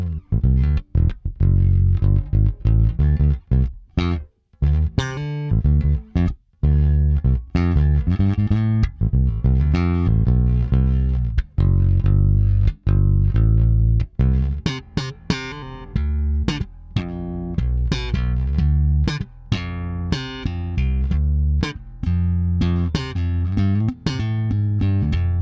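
A Fender American Ultra II Precision Bass with an ebony fretboard, heard on its P pickup alone, plays a busy run of plucked notes with sustained tones and brief gaps, loud and up close with no voices.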